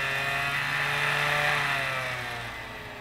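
A Sega Dreamcast disc drive spinning a blank CD gives off a loud, engine-like whirring drone with steady tonal hums that rise and then fade slightly as it runs on by itself.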